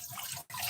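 Water poured steadily over rice in a pot to rinse off excess starch, a continuous close splashing stream with a brief break near the middle before it resumes.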